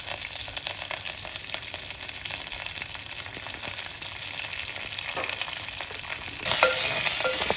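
Curry leaves and coriander leaves fry in ghee for Nombu rasam, a continuous close sizzle with light stirring. The sizzle flares louder near the end.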